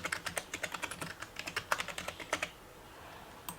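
Rapid keystrokes on a computer keyboard rattle close by in an uneven burst of clicks, then stop, leaving quiet room tone with no talking.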